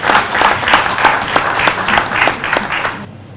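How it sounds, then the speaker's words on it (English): Audience applause fills a military change-of-command ceremony as a Chief of Defence Staff hands over, with steady dense clapping throughout that cuts off abruptly near the end. "Please, another round of applause to the distinguished senior"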